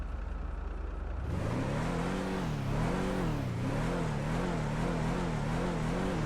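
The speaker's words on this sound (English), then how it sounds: "as for the way the vehicle sounds" A Declasse Granger 3600 LX engine in GTA 5 comes in after about a second, then revs up and down repeatedly in a rising and falling drone, loud and close, with no talking.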